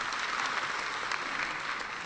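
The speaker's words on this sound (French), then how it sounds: "Merci d'applaudir DEFA Communication, s'il vous plaît." An audience claps steadily and densely throughout a short burst of applause at an awards event, sustained and fairly loud with no pauses.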